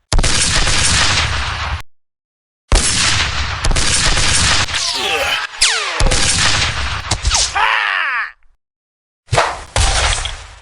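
Loud, rapid bursts of gunfire crack out in sustained volleys broken by brief silences, with a few whooshing, ricocheting sweeps between the shots.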